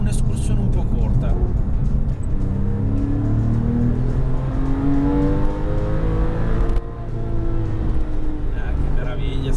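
A Porsche 997 Carrera 4S engine revving hard to 7000 rpm on a cold, dirty road, a loud rising wail that climbs steadily, drops at a gear change, then pulls up again.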